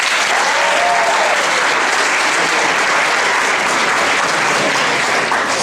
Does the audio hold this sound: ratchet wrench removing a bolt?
no